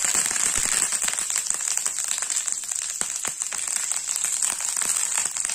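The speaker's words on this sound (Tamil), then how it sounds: "இந்த கடுகு எல்லாம் பொரிஞ்சிடுச்சு" Mustard seeds, cut dried red chillies and curry leaves sizzle and crackle steadily in hot oil, with dense popping spatters throughout at close range.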